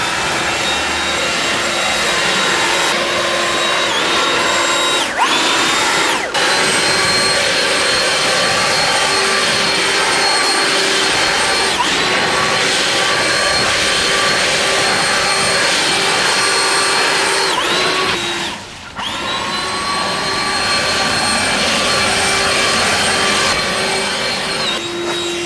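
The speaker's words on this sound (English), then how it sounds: "Not too bad for a little handheld blower." A Stihl BGA 86 battery handheld leaf blower runs steadily for the whole stretch, a loud, even whine and rush of air with one brief dip near the end, alone with no talk.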